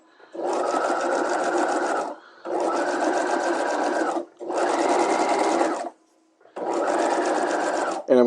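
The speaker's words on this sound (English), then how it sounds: "I'm stitching it at 1/2 inch." A sewing machine stitches a dress sleeve at a half-inch seam in four close, even bursts of rapid whirring, each lasting a couple of seconds and separated by brief pauses.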